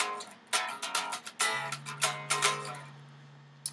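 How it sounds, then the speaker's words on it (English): Electric guitar part played up to speed, bright strummed chords in a quick rhythm with a low sustained note underneath, fairly quiet. "And that part, played up to speed, sounds like this on the guitar."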